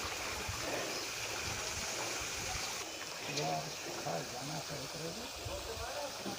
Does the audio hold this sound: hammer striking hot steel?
no